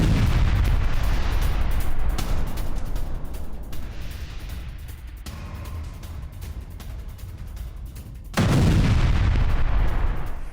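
Heavy explosions from a Su-34 strike in Kharkiv destroying an S-300P missile launcher, a continuous roaring rumble of blasts with a fresh loud surge near the end.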